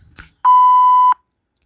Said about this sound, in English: you're going to replace it with the beep sound